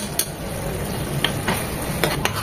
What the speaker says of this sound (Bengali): বিফ কিমাটা খুব ভালোভাবে নেড়েচেড়ে মিশিয়ে নেব